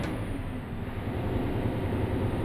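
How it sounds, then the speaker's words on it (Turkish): Steady low engine drone of a bus driven in Euro Truck Simulator 2 on a Bandırma–Balıkesir route, a continuous rumble with faint hiss, heard alone without talk. "Otobüsün sesi güzel ama."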